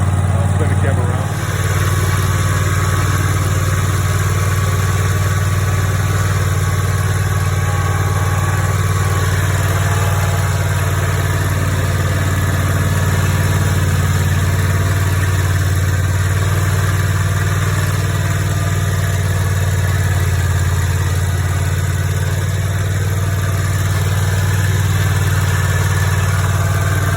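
A lawn mower engine fitted with a homemade grass striper idles steadily and loudly close by, a constant low drone throughout after starting, while someone talks over it.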